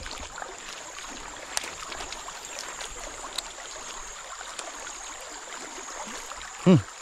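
Fast-flowing river water rushes in a steady, even wash throughout, heard from the bank while casting an inline spinner, with one brief dull thump near the end.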